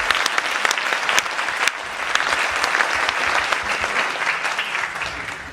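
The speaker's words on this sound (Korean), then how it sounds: "한번 다 같이 박수" An indoor audience at a Korean launch gathering claps together in sustained, dense applause that holds steady for several seconds.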